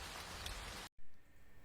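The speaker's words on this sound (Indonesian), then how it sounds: "Suara gemuruh hujan mengusik ketenangan Murato" Pouring rain from an Indonesian drama adaptation of a short story: a dense, steady downpour hiss cuts out for a split second, then returns softer and thinner, with no voices.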